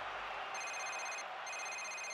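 A telephone bell rings twice in a cartoon about football, two bursts of bright trilling tones separated by a short gap, clear over a faint hiss.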